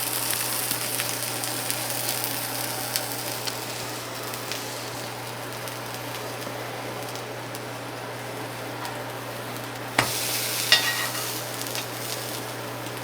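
A tuna melt sandwich fries in a pan with a steady, soft sizzle throughout, broken by a brief clatter near the end as it is handled.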